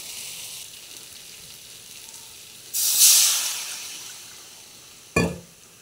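Water hits fried spice paste in a hot pan, setting off a sudden loud hissing sizzle that slowly fades, followed by a short sharp clatter, close by with no talking.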